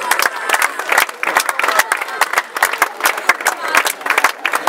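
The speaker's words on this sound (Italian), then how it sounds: "Un applauso anche ai ragazzi del Chieti Calcio" Crowd applause and cheering for a youth football team of Chieti Calcio and their coach at an award ceremony, with dense, sustained clapping that rises and falls in bursts and voices mixed in throughout.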